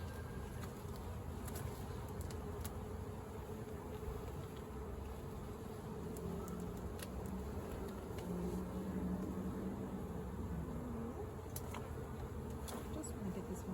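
Dense honeybee swarm buzzing inside a hive, a steady close, loud hum with many overlapping wingbeats throughout, no voices.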